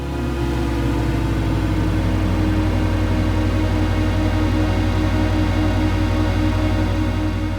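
A dense, sustained electronic drone of layered tones from six Transit effects pedals hums steadily and loudly, slowly shifting as the chord opens up.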